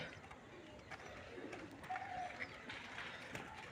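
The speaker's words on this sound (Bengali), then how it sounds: "আপনাদের ভালোভাবে পায়রাগুলো দেখালাম যে আমাদের হাতে খাচ্ছিল পায়রাগুলো" Pigeons coo softly from a coop or cage area, a faint low murmuring with an occasional brighter call over steady background noise.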